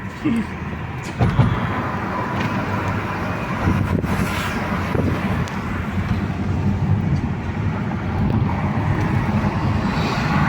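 Steady rushing sea wind buffets an open car window while the car drives along a coastal road, a continuous broad roar with faint bumps.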